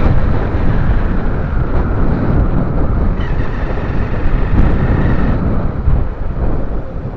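A motorcycle engine with a bad, faulty sound runs loud and rough, a dense continuous roar with heavy low rumble and wind-like noise sustained throughout, no talk.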